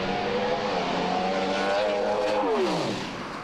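A Pro Stock drag racing car makes a loud full-throttle pass at Calder Park, its engine a steady high roar that drops away sharply near the end as it shuts off, with crowd and track noise beneath.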